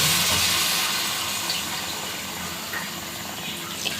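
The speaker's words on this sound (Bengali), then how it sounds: "এখন আম্মু পানি দিবে" Water pours steadily into a cooking pot of khichuri, a continuous rushing flow that starts strong and gradually softens.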